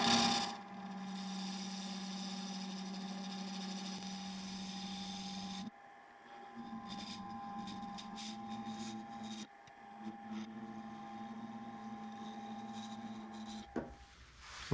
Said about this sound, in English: Trying a 1/2 inch bowl gouge now to see if that makes any difference.